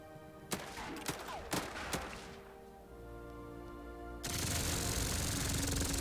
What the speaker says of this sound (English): We're getting some overwatch from the machine guns.